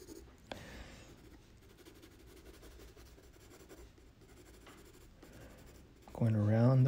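A pencil shades a drawing on paper, a soft continuous scratchy rubbing that goes on steadily before a louder burst of sound at the end.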